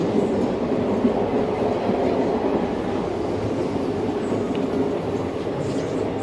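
A Tungabhadra Express passenger train pulls into platform 2 at Malakpet station, giving a steady, close, dense rumble of wheels and carriages that holds at an even loudness throughout, with no voices.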